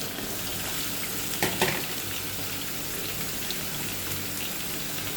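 Raw green banana and chopped tomato frying in a pan, a dense, even sizzle throughout, close and steady, with a brief clatter of stirring near the start and no voices.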